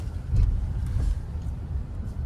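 A Mahindra XUV700 petrol automatic SUV rolls steadily through a U-turn with a low engine and road rumble, continuous and close, with no voices.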